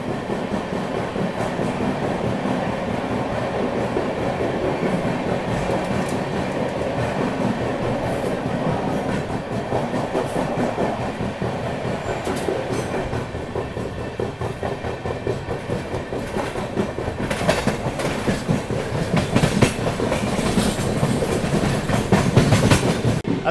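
The 12286 Secunderabad Duronto Express rushes through a station near Agra, its wheels clattering in a fast, rhythmic clickety-clack. The rumble is loud and close and swells louder toward the end, with no voices.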